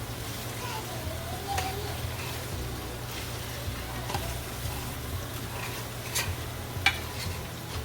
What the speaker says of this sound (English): you're just gonna let the chorizo and the meat saute at low for a while